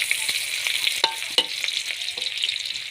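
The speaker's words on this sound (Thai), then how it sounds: "เจียวหอมเจียวกระเทียมก่อนค่ะ" Shallots and garlic fry in a pan with a steady bright sizzle, broken by a few sharp crackles and spatters, close and with no voices.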